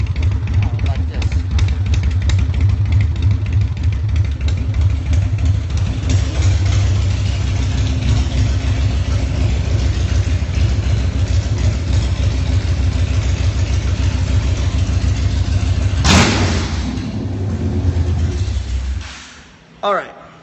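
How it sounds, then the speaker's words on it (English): Custom chopper motorcycle engine running steadily and loudly up close, a deep continuous rumble that holds for most of the stretch, swells briefly near the end, then cuts off. "It's a gorgeous custom chopper."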